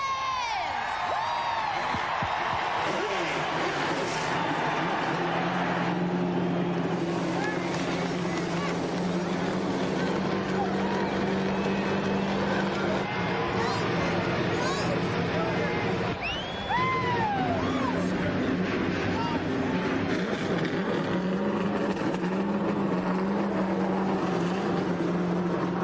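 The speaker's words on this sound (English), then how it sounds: "The roar you hear, 43 Winston Cup engines coming to life." Forty-three NASCAR Winston Cup stock car engines fire up together at Daytona International Speedway for the 2001 Pepsi 400, a massed, continuous roar filling the space under crowd noise and cheering, loud and sustained throughout.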